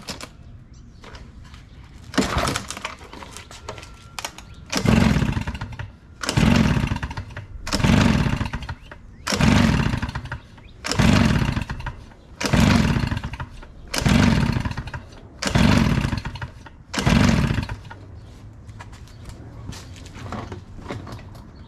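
A RedMax backpack leaf blower's small two-stroke engine idles and then is revved in about eight evenly spaced roaring bursts, each rising and falling back to idle, close and loud.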